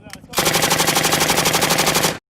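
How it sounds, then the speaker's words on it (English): A loud, rapid machine-gun sound effect rattles in one continuous burst of about two seconds, close and dominant, then cuts off abruptly. "Have I got a machine gun in F? Where's my machine gun?"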